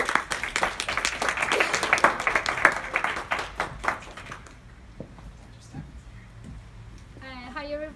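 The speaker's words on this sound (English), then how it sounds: "Can I give her a really big round of applause" An audience applauds a speaker at a fireside chat. Loud clapping fills the first half, then it thins to scattered claps and dies away into room noise before a voice begins at the end.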